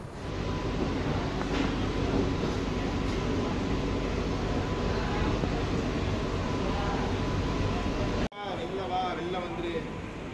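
A new AC MEMU electric train in Chennai runs with a steady, loud rolling roar and hiss from inside the coach, broken by a brief cut near the end, with a voice talking over it.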